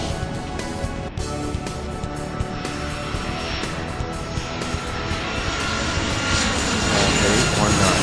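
A small plane's engine in the Airport Madness 3 video game roars steadily during its takeoff roll, a loud droning propeller tone that builds slightly in intensity toward the end, with no talk over it.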